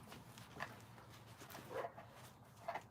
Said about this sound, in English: A bunch of dogs.